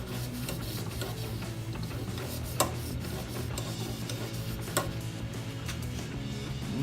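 A blade is stroked across a 1500 grit sharpening stone, a steady close rasping scrape with a low constant hum underneath and a couple of brief sharp clicks.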